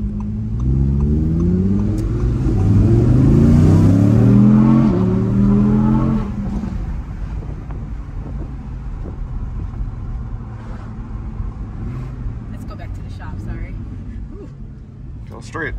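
A 2022 Audi R8 V10 Performance engine revs loudly, its pitch climbing and falling for several seconds, then settles into a lower, steadier drone as it drives along.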